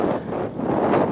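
Steady wind buffets the microphone, a broad rushing roar that swells slightly toward the end, with no voices.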